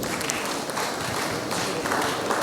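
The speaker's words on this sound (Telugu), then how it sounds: "చప్పట్లు కొట్టవచ్చు అందరూ." Audience at the opening of a new studio at the Bishop House in Xavier Nagar, Eluru, clapping together in a dense, steady burst of applause filling the room.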